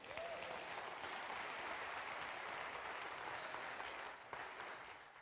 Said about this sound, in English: That's what you had to clap for.